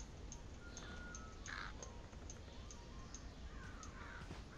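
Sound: bird cawing in the video game Thief

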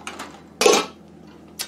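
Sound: lid put on a cooking pot

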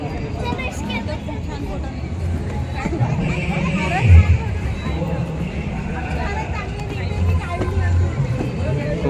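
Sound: dense crowd babble at a fair

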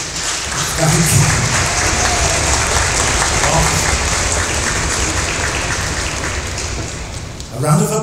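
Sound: audience applause at an orchestra concert

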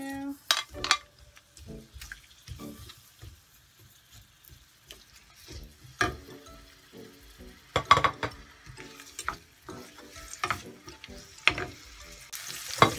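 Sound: onion sauteing in a pan

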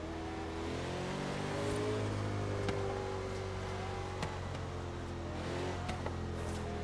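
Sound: car engine accelerating in video game Forza Horizon 3

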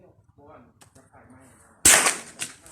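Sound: CZ 457 rifle shot fired at 100 metres

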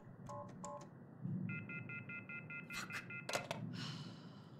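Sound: telephone dialing in video game The Mortuary Assistant

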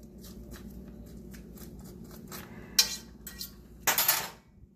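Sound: stirring meatballs and sauce with spaghetti squash in a Lodge dutch oven

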